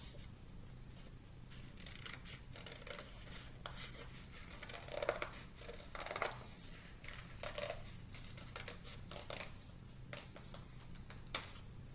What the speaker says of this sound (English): I'm going to take my scissors again.